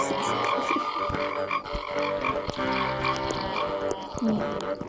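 A video game frog croaks in repeated rhythmic bursts over layered game music and effects, loud and upfront with no voices.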